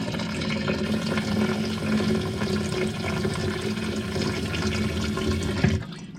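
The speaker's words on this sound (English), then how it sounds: "And I'm just rinsing out the container. And adding water." Running water rushes steadily into a container being rinsed and filled for a tray sprouter, a continuous close splashing flow that cuts off abruptly near the end, with no voices.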